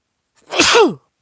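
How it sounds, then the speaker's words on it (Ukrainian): A single close, loud sneeze from a man: a sharp intake followed by an explosive burst that trails off quickly, with no other sound around it. "бачите, я чхнув"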